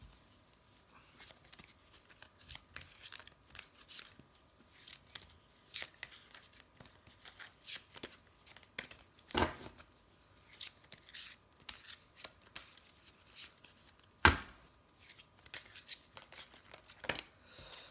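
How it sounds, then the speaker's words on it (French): Tarot cards are shuffled and drawn in a quiet room, making a long run of soft, irregular riffling and slapping bursts with a few sharper snaps, close and alone without talk. "J'aime bien tirer quelques cartes pour voir un peu ce qu'il va nous dire."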